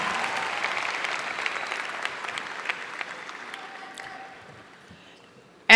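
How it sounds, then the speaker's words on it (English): Audience applause for an orchestra and choir at a high school graduation ceremony: steady clapping from a large crowd that gradually thins and fades toward the end, closing on a brief loud burst. "Let's give applause to the orchestra and the choir for performing A Sky Full of Stars"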